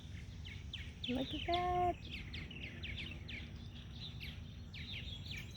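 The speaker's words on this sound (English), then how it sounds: "I am going to switch this up and see these birds." Birds chirp and call through a summer morning garden at Lake Anna, steady short tweets at moderate distance, with a louder whistled call briefly near the start while a person speaks.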